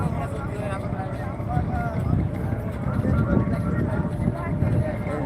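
Boats on Tanguar Haor in Sunamganj, with a steady, rumbling motor drone and water noise up close as another boat approaches, while a person talks over it.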